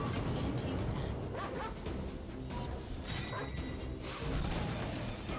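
Dog barks and yips sound in the video game Bless Online amid combat crashes and clanking effects, several sharp barks over a busy, loud game mix.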